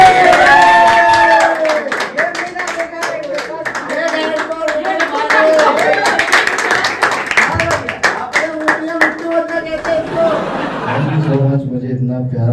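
Audience at a standup comedy show claps and laughs to welcome a comedian onto the stage, a dense steady wash of applause running under music and voices for the whole stretch.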